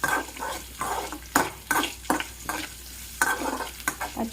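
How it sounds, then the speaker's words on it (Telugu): Green chillies and chana dal fry and sizzle in a pan while a spoon stirs and scrapes in quick, irregular strokes, close and moderately loud, with no talking. "పచ్చిమిర్చి అండ్ శనగపప్పు రెండు బాగా వేగాక"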